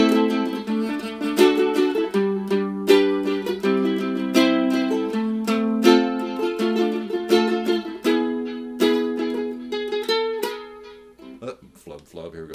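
A ukulele plays the strummed chords and a short picked lick from a song, with crisp plucked notes in an even, lilting rhythm, close and clear, alone without voice.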